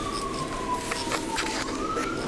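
A wailing emergency vehicle siren slowly rises and falls, loud and steady, over a constant rumble of traffic noise in Winnipeg, Manitoba.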